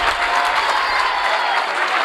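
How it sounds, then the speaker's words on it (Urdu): Audience at a Seerat-un-Nabi religious conference in a Manselhra government higher secondary school breaks into loud, sustained applause, a thick continuous wash of clapping from a large crowd. "آپ کی بھرپور تالیوں میں"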